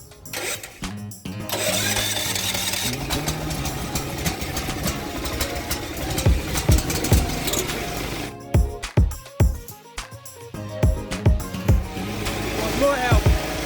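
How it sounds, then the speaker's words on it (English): A backup generator engine cranks and starts automatically on a changeover system, then runs with an uneven, rattling chug broken by sharp mechanical bursts and knocks, fairly loud and close. "The system can turn on the generator."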